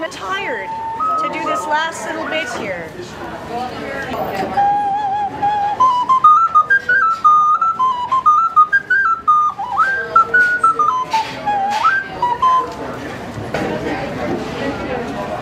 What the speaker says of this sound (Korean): 우아한 소리를 내는 오카리나는 대개 도자기로 만든다.